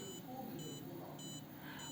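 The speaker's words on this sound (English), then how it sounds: "when the smoke passes through the sensor, the red light blinks and the buzzer makes sounds" A homemade smoke-sensor buzzer gives short, thin electronic beeps at a steady pulse, four evenly spaced bursts over a faint background hum with soft room noise.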